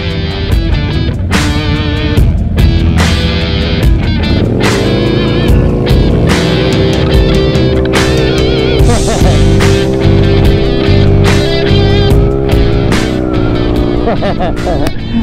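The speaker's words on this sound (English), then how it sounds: "I just raced the Harley." A small motorcycle racing a Harley-Davidson, with loud, close engine roar rising and holding through revs for the whole stretch, harsh and continuous, and voices heard over it.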